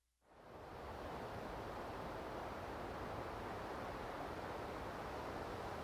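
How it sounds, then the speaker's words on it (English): A nighttime ambience sound effect from a sound library fades in quickly and becomes a steady, soft, broadband hiss resembling distant surf or wind, unchanging and alone. "It's kind of like a nighttime ambience"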